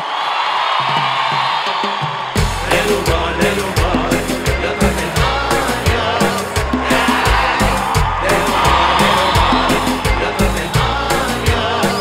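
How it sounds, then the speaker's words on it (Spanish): A comedy show audience breaks into loud applause and cheering with whoops, a dense sustained roar that keeps going over thumping music after a brief opening of crowd murmur. "Reciban con ese aplauso, pichigo"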